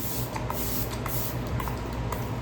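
A Vizzela makeup setting spray mists across a face in a fine, diffuse hiss that runs steadily and close throughout, with no talking.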